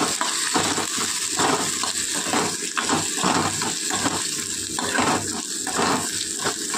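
Snail curry (gugli) with turmeric and salt sizzling and being stirred in a pan, a steady broadband frying hiss with rhythmic scraping bursts throughout, loud and close, no talking.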